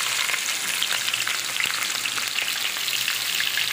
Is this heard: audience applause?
no